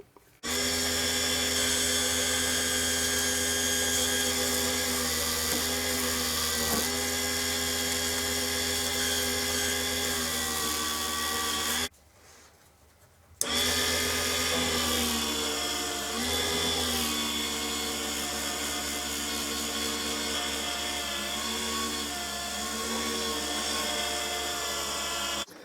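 A mini lathe strips chrome from a guitar part on a Guyatone LG50, giving a steady loud whine with strong tonal harmonics. A brief drop to near silence comes about halfway, then the machining resumes.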